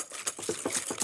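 Quick, grainy scraping strokes of a whisk mixing sugar into egg yolks in a bowl in a fast rhythm, close by, with no voices.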